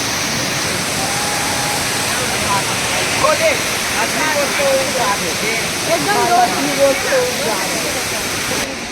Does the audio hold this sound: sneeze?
no